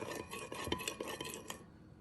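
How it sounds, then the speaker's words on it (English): Salad dressing stirred in a bowl for a pasta salad, a quick run of soft scraping, clinking strokes, close but quiet, ending in silence. "let's go ahead and add this dressing, which I'm going to stir first"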